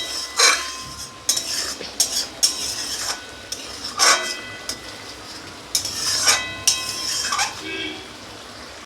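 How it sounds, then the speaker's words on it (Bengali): Malabar spinach cooking in a pan with a drizzle of raw mustard oil is stirred and mixed, a spatula scraping the metal in repeated rhythmic strokes over a soft sizzle. "এবার এটাকে ভালো করে নাড়াচাড়া করে মিশিয়ে নেব।"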